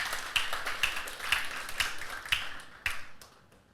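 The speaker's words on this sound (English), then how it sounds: "Please give them a round of applause." Small audience applauding at a motivational speaking event, a handful of distinct claps spaced out then thinning and fading to quiet, sparse and fairly close.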